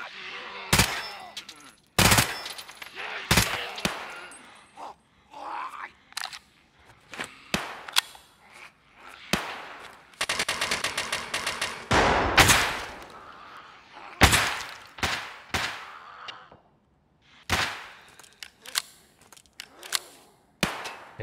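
Gunfire in the shooter game Escape from Tarkov, with sharp single shots and short bursts arriving irregularly, some loud and close, others fainter and farther off, with one sustained rapid volley in the middle.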